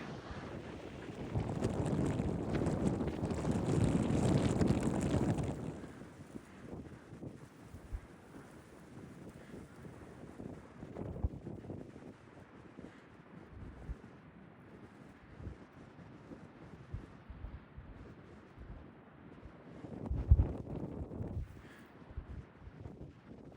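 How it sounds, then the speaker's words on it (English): Wind buffets the microphone on a coastal beach walk toward Swan Lake, loud rushing gusts at first that soon ease to a faint, intermittent breeze with occasional soft bumps. "So the wind's died down a bit."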